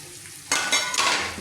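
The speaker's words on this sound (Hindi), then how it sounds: "इसको भी कुछ 1-2 मिनट में फ्राई करती हूँ।" Five thick dried red chillies hit hot oil in a pan for a dal tadka, bursting into a loud close sizzle that swells again midway and keeps crackling steadily.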